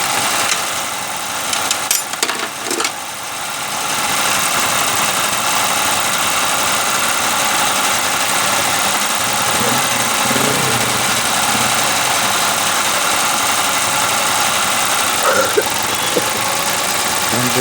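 A Suzuki Mehran car engine idles with a vibration problem at around 1,000 to 1,300 rpm, giving a loud, steady, close mechanical drone throughout, with people talking nearby over it.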